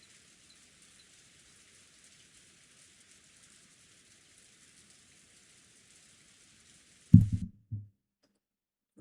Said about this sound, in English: what she could see of the rose garden was completely blurred by the wind and the rain